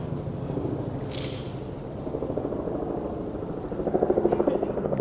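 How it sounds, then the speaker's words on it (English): A helicopter approaches beside the Battleship New Jersey on a cold day, its low rotor thumping rising steadily and growing louder, with wind buffeting the microphone. "We got a chopper coming in."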